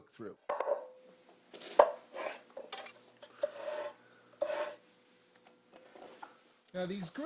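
A knife chops vegetables finely on a board in short bursts between stretches of a voice talking, with a few sharp knocks and scraping sounds.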